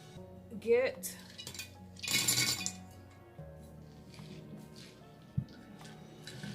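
Acorns clink and rattle as they are dropped into a glass vase, a few bright scattered taps and one busier cluttered rush, fairly quiet and close.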